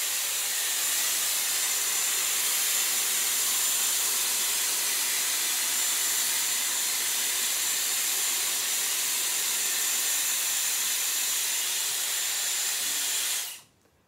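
A Dyson Airwrap styler blowing air through its volume brush attachment, a steady loud high-pitched airflow hiss that runs unbroken for about thirteen seconds and then cuts off abruptly.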